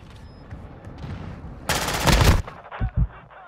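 Call of Duty MW2 Ground War gunfire, quiet ambient battle noise broken by a loud, sharp burst of rapid shots with bullets cracking past, followed by a couple of separate closer thuds.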